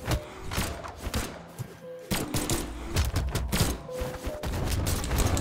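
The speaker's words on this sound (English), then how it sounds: "Oh, he has Uzis." Uzi gunfire rattles in the Brawlhalla fighting video game, with quick bursts of sharp shots mixed with thumps, hits and other game effects in a busy, close mix.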